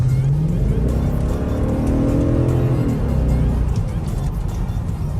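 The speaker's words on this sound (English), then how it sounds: "Let me get on a little bit so you guys can hear the V8." BMW X5 E70 SUV's V8 engine accelerating, heard from inside the cabin: a steady, loud engine roar that rises in pitch as it revs up, then settles, with road noise underneath.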